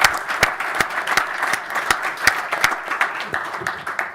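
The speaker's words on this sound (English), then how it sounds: "Let's give him a round of applause." Audience at a cleantech summit applauding, a steady wash of clapping with sharp individual claps standing out, moderately loud and continuous throughout.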